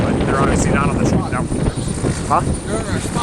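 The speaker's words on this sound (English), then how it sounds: "we spotted this random helicopter that just happens to be taking off" A helicopter lifts off at an airfield where maintenance crews are nearby, its rotor and engine roar steady and loud under close conversation, with gusts of wind noise buffeting the microphone.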